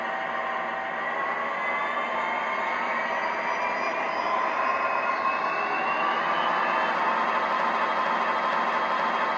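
A steady diesel engine drone from a Lionel Legacy model train, with a whining tonal hum, held at high revs throughout, continuous and moderately loud with no talking.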